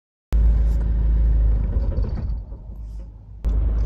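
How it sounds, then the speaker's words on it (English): A 2000-2009 Toyota engine idles roughly with a close, deep rumble that sags and wavers partway through, then picks back up abruptly near the end. "So this is the problem with the idle."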